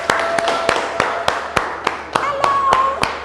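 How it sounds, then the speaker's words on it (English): An audience applauds at a speaking event, with a steady series of sharp, evenly spaced claps standing out close by over a softer wash of clapping and murmuring voices. "give TY Bello a round of applause"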